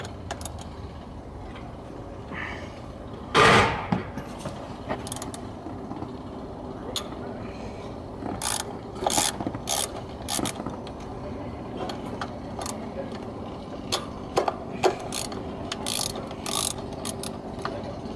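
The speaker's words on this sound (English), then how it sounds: "Need a 5/16 socket for this." Ratchet wrench with a 5/16 socket working on the throttle body of a 1997–2004 Ford F-150, short bursts of close, sharp clicking spread across the clip with pauses between.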